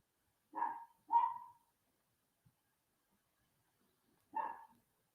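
A few dogs at home give three short, faint barks, two close together and one after a pause, in an otherwise quiet room.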